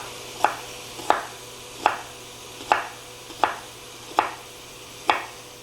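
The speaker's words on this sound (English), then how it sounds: "I'm going to do the whole onion. Big slices." A knife slicing a whole onion into big slices on a cutting board, seven evenly spaced crisp chops at a steady, unhurried rhythm over a quiet background hum.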